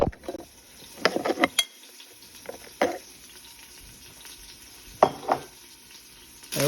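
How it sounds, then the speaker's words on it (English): Two steaks sear in an Instant Pot, a faint steady sizzle broken by sharp clinks and scraping bursts of utensils against the pot, close by and without talk. "There we have our 2 steaks in there simmering, or they're actually going to sear on 2 minutes on each side."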